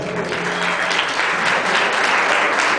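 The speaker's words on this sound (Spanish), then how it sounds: "El aplauso para ellas." Applause from a fashion show audience, loud, dense and continuous for a few seconds, with no voices over it.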